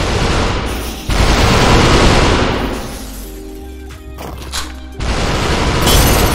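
A shotgun in the VR game SUPERHOT fires with loud, heavy booming blasts, the first burst running over a second, then a quieter stretch before another loud blast near the end.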